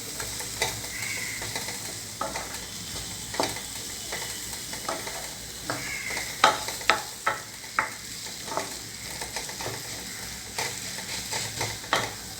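Ripe banana being mixed and mashed in a bowl, soft squelchy stirring with light rhythmic taps of the utensil against the bowl, close and quiet, with no talk.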